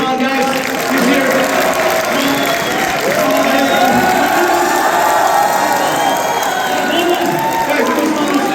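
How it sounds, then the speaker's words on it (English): Loud, sustained applause with cheering and whoops from a packed audience at an evening event in Chicago with a UFC champion, greeting PFL champion fighter Usman; dense crowd noise with shouting voices throughout. "Can we get a round of applause for Usman, guys?"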